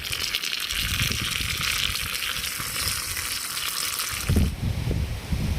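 Loud, steady sizzling of chillies frying in hot oil, a dense crackling hiss that continues throughout, with a brief stirring clatter near the end.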